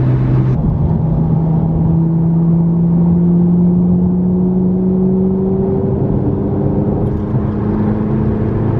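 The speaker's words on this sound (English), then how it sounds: "This is my last ride into Ferrari." A Ferrari heard from inside while driving, its engine holding a steady loud drone that rises slowly in pitch as the car accelerates, with no talk over it.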